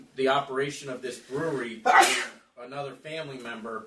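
During a board meeting, a single sharp sneeze breaks into a man's steady speech, which resumes just afterward.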